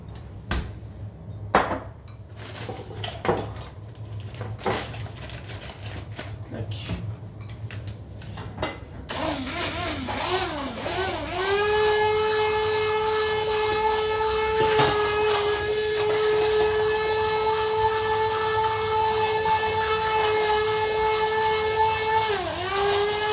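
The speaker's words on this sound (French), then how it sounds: "Je vais lui donner un petit coup de mixeur magique là." A hand blender churns a pot of shrimp rougail. Clattering knocks come first, then a loud steady motor whine that dips in pitch as it meets resistance and runs on continuously.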